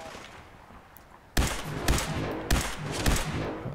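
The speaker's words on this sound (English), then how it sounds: "This guy has a machine gun" A super mutant fires a machine gun in Fallout 4, sending several loud, close bursts of rapid shots that crack out one after another, each trailing off briefly before the next.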